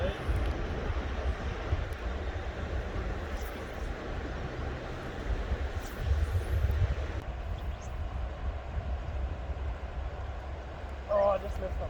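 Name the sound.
helicopter flying overhead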